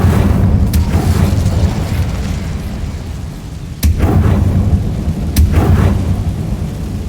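The Incendio fire spell in Hogwarts Legacy goes off in three sharp bursts, each a sudden crack followed by a rumbling whoosh of flame over a low, steady background.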